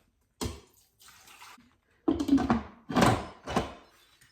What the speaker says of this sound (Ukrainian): Тепер пів-літри води заливаю.